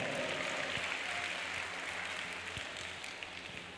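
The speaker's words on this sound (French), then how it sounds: "On applaudit très fort." A crowd at a cultural talent show in Banfora applauds in a steady wash of clapping that slowly fades, with a few sharper claps and thumps standing out.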